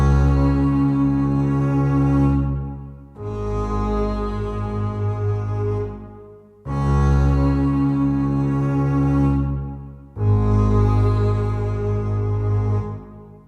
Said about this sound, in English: So I open up Contact and I'm using this Chris Hine ensemble strings